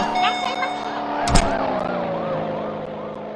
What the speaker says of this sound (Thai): รถตำรวจ